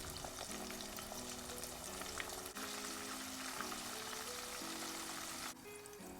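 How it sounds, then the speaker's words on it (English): Catfish nuggets deep frying in hot canola oil at about 350 degrees, a continuous close sizzle and crackle that holds steady throughout, with no voices. "Once it's hot enough, you can add in your nuggets. And you want to fry them for about 3 to 4 minutes."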